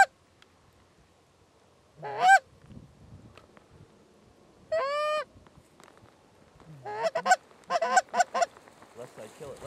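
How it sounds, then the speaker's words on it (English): Geese on a Saskatchewan waterfowl hunt honk in scattered single calls over quiet outdoor ambience. A tight cluster of honks comes near the end, moderately close and alone. "There's a goose coming."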